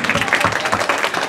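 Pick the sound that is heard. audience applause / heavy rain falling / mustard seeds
audience applause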